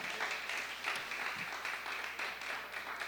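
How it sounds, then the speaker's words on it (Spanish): Church congregation applauding during a Spanish-language service: a moderately distant, continuous wash of clapping from many hands, fairly even in level, with a low hum underneath. "dele un aplauso fuerte al Señor ahí"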